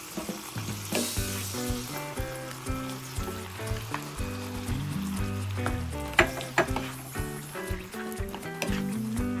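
Grilled eggplant and tomato cooking in a pan for Ilocano poqui-poqui, a steady close sizzle and frying crackle with a few light stirring clinks throughout, while a bright harmonic music bed plays loudly over it.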